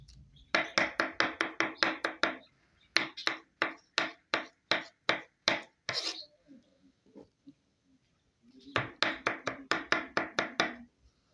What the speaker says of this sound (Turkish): Patlıcanlarımızı böyle küçük küçük doğruyoruz.